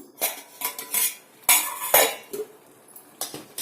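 A steel cooking pot clanks and rattles as it is handled and set aside on a stove, with several sharp close metallic knocks and scrapes in quick succession.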